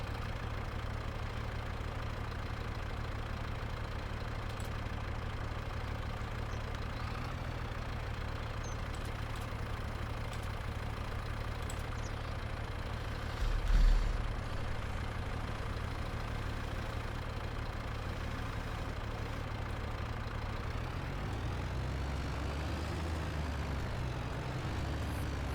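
A tractor engine idles in Farming Simulator 25 as a steady, low drone that hums on unchanged, with a brief bump partway through and a slight shift in tone near the end, no voices over it.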